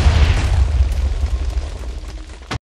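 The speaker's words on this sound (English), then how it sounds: "There's gonna be a very loud explosion." A loud, rumbling explosion from the video game Minecraft, with a dense low boom that rolls on for over two seconds before cutting off abruptly.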